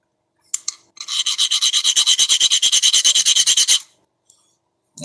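An old file with a worn, dull spot is rasped against diamond-impregnated tungsten bits. There are a few short scrapes, then a fast, even run of about twenty loud, close strokes, followed by a light tap.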